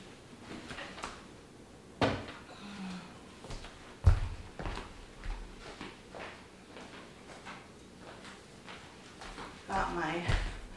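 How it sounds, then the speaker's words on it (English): A drawer pulled from a chalk-painted wooden chest, giving several sharp wooden knocks and scrapes close by, with lighter handling clatter between them. "let's get this drawer out of the way"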